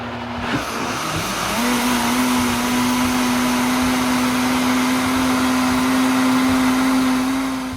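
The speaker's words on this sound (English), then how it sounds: "Make sure before you turn on your blender" A loud, steady motorized whine with a sustained pitch, rising briefly before settling into a continuous high-speed drone, a blender running at full power blending bean scramble batter.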